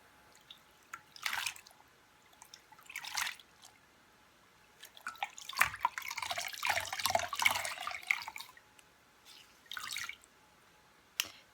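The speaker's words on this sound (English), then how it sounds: "I'm going to rinse this washcloth and then come back for a" Tap water running in short bursts over a washcloth being rinsed in a sink, with splashing and squishing wringing sounds, a longer sustained stretch in the middle, close and fairly quiet, no speech.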